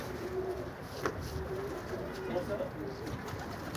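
Soft, low pigeon coos repeating in short phrases amid crowd murmur and outdoor background noise.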